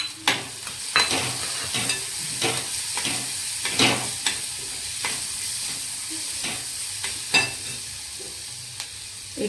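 Chopped onion goes into hot oil with curry leaves and a pinch of turmeric, giving a continuous close sizzle broken by sharp stirring scrapes and clacks at irregular intervals.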